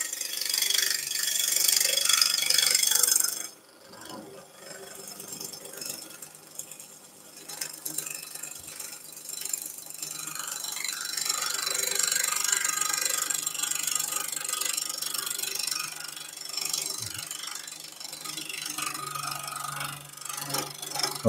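Lathe tool cuts a spinning banksia nut and epoxy resin blank with a continuous moderate scraping hiss, loud at first, then quieter and steady under the machine's hum.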